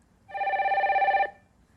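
A single loud telephone ring of about one second announces an incoming call to a 24-hour counseling line on a talk show, sounding alone and close.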